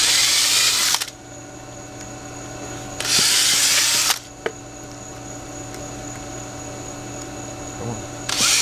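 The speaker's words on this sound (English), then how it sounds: "I'm gonna redrill." A power drill whines loudly in two bursts of about a second each, then starts a third time, while building outdoor speaker roofs for a shed. Quieter handling noise and faint ticks fill the gaps between bursts.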